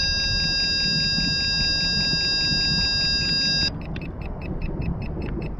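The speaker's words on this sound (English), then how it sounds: "So that's the siren." Police siren on a remote-control car, switched from its transmitter, beeping as a steady high electronic tone, then cutting to a rapid pulsing beep pattern partway through, loud and close over a low motor hum.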